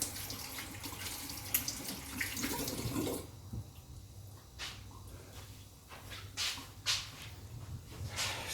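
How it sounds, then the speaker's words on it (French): Running tap water splashes as hands are washed at a kitchen sink, a busy wash for the first few seconds, then a quieter, broken trickle with brief splashes and rubbing; no talk. "je me lave les mains"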